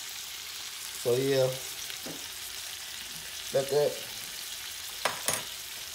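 Pot roast meat fries in a pan, a soft steady sizzle running underneath while someone talks in short bursts close by.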